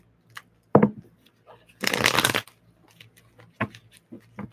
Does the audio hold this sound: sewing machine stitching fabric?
no